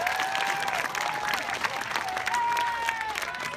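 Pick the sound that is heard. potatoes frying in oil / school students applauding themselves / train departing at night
school students applauding themselves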